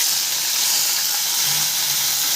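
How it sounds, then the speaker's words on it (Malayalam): Dried red chillies sizzling in hot oil while tempering a tomato chutney, a steady bright hiss and crackle holding evenly throughout without voices. "ഉണക്കമുളക് ഇട്ടിട്ട് താളിക്കുക"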